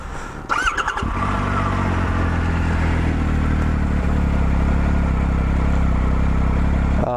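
Triumph Street Scrambler motorcycle with new exhausts, heard up close as a brief clatter at start-up followed by a steady, deep, bass-heavy idle that runs loud to the end.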